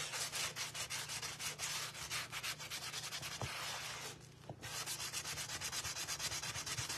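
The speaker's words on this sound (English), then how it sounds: "I'm going to show you that you can sand it" Sandpaper rubs rhythmically across a wooden WUB trim frame with close, raspy back-and-forth strokes, pausing briefly partway through before resuming.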